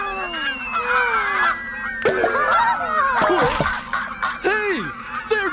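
Cartoon geese honk repeatedly in a noisy, overlapping flock, the calls loud and close with falling swoops, mixed with brief background voices.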